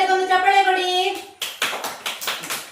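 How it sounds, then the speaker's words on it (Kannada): A voice sounds briefly, then about six sharp, evenly spaced hand claps ring out close and loud in a children's lesson honouring soldiers. "ಯೋಧರಿಗೊಂದು ಚಪ್ಪಾಳೆ ಕೊಡಿ"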